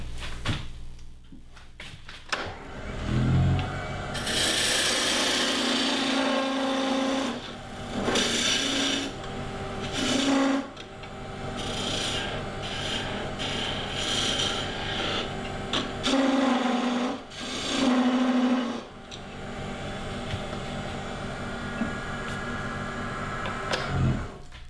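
A wood lathe turns while a tool hollows out the bowl of a wooden spoon, a steady motor hum broken by repeated scraping, rasping cuts that come and go in uneven bursts.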